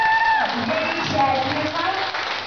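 A crowd applauds at a festive Russian gathering after a verse is read out, the clapping steady and fairly loud for a couple of seconds, with voices and some tonal sounds mixed in.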